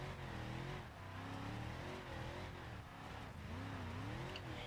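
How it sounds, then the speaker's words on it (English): A car engine in the BeamNG.drive video game revs and wavers unevenly, its pitch rising and dipping as if cutting out, heard faint and steady throughout. "it just seems like it's got a fuel cut, but at random RPMs"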